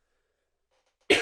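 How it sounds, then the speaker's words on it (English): A single sharp cough bursts out close to a podcast microphone on a mic arm, loud and brief after near silence. "you got to turn that mic off when you cough"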